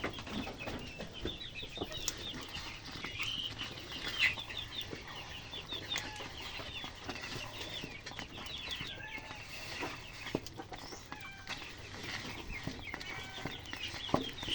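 Chickens cluck and scratch around at low volume, with occasional wing flaps and scattered bird calls in a quiet outdoor setting.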